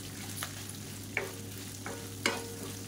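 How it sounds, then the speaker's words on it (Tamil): Curry leaves and onions sauté in a pan, with a faint steady sizzle under a low hum and a few sharp spatula scrapes, close by and quiet. "இப்போ இதோட இதையும் சேர்த்து நல்லா முறுமுறுன்னு வதக்கி விட்டுக்கலாம்."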